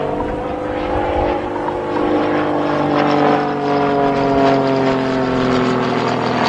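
An RAF Grob Tutor propeller plane flies an aerobatic display at the Cosford Airshow, its engine a loud, continuous droning buzz that rises and falls in pitch as it loops overhead.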